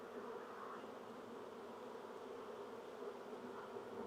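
Honey bees buzz in a steady, dense drone at an open hive during a queen release, continuous and fairly close with no talking.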